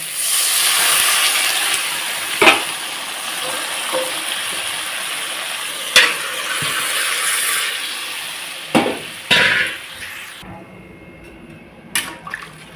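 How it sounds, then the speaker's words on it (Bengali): Fish curry broth of rohu-style bata fish with potato and eggplant bubbling in a pan, a steady hissing boil with a few louder bursts and clatters, close and alone. "দেখো ঝোল টকবক করে ফুটে গেছে"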